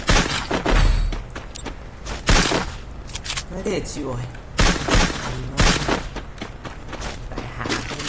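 Gunfire bursts from the Free Fire battle game crack out repeatedly in short, loud, irregular volleys, mixed with other game effects while players talk throughout.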